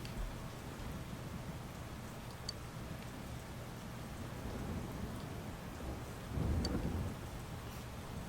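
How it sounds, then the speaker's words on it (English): Steady rain falling with a constant wash of noise, a low rumble swelling briefly near the end; no voices. Rain in the video game Persona 4 Golden. "It is definitely raining."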